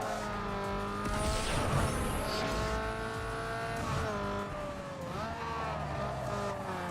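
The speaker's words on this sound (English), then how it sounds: "To hear the echo, the reverberations of the exhaust through there." Engine exhaust from a street-tuned car in Need For Speed Underground 2, droning loudly and continuously as it reverberates through a tunnel, with pitch rising and falling as the car shifts and corners, alone without talk.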